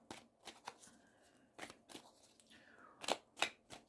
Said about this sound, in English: So that's the cards. Shuffling the cards.